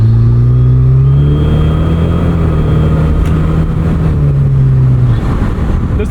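A 2008 Saturn Sky Redline engine drones loud and close, its steady tone rising slightly before cutting off near the end, with no talking.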